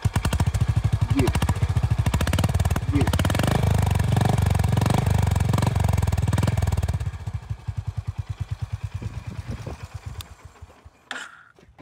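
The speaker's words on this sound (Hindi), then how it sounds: "थोड़ा ज़्यादा प्योर एग्जॉस्ट साउंड है" A Royal Enfield Meteor 350 motorcycle engine runs loud and steady with a throaty exhaust rumble, then settles into a slower, uneven idle that pulses before cutting off.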